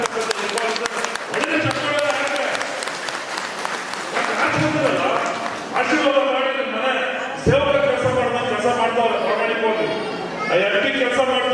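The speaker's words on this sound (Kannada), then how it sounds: "ಒಳ್ಳೆ ಚಪ್ಪಾಳೆ" A crowd at a public loan distribution event in a Karnataka village claps, a sustained burst of applause running under a loud voice on a PA speaking over it.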